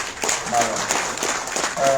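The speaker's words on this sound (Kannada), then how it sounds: "ಅವರಿಗೆ ಒಂದು ಜೋರಾದ ಚಪ್ಪಾಳೆಯಲ್ಲಿ" Audience at a Chennamma victory celebration and Karnataka regional day event clapping, a brief burst of mixed applause heard close and fairly loud with a voice talking over it.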